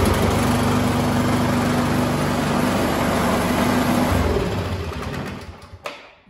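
Craftsman 24-inch snow thrower engine running loud and steady with a harsh buzzing drone after an electric start, then dropping away near the end to a couple of clunks as it dies down.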